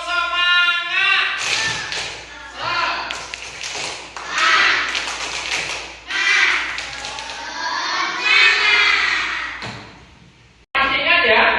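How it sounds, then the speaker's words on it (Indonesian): A school class of children performs a rhythmic spirit clap chant, loud, close voices chanting together in bursts punctuated by sharp unison claps, then a brief break before a final clap. "kita tepuk semangat dulu ya"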